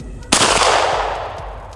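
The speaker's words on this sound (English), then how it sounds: "A fun little over under shotgun for you." A single loud, booming blast from an over-under shotgun, close by, with a long rolling echo that slowly fades.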